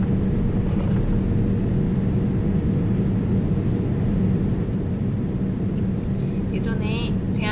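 Steady, loud broadband roar inside an Etihad Airways airplane cabin during a night flight with light turbulence, a constant engine and air rush filling the whole stretch, with faint voices briefly rising near the end.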